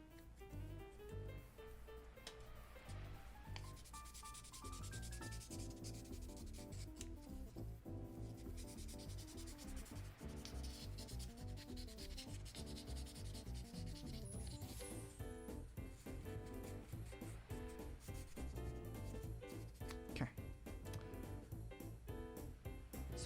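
The edge of a trimmed Wii circuit board is rubbed with 800-grit sandpaper, a soft, continuous scraping of back-and-forth strokes that sits quietly under a tonal music-like background.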